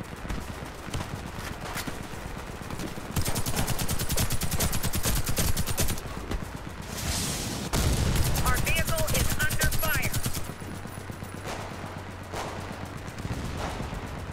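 Gunfire hitting and surrounding a vehicle in the shooter Warface, long stretches of rapid automatic fire with dense rattling bursts and brief gaps, loud and close, with a voice speaking at times.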